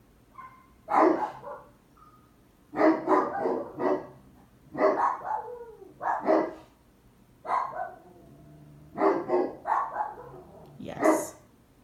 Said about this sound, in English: Are my dogs barking?